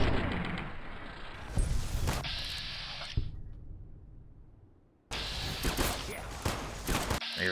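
A heavy-recoil weapon fires in modded Fallout: New Vegas, loud booming shots with echoing tails in two bursts separated by a quiet gap, with a voice briefly talking over the blasts.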